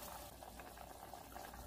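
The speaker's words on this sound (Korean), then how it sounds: "완자탕이 보글보글 끓고 있는데요." Meatball soup bubbling in a pot, a quiet continuous simmering burble with small pops and no talking.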